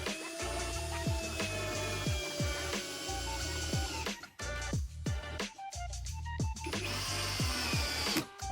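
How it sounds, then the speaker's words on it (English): A power drill whines through pre-drilled holes in a wooden cat scratching post, in repeated bursts of spinning with brief stops and pitch drops as the bit bites into the wood. "pre-drill some holes for installing"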